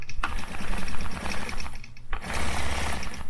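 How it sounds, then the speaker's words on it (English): Sewing machine stitching along the edge of a quilt border, a steady fast mechanical whir with two brief pauses, close and fairly loud with no talk. "now I'm just going to stitch the edge of this little border."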